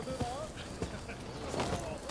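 Hooves clip-clop briefly in Rise of the Ronin, a few soft, spaced thuds sitting under an excited voice and game background noise.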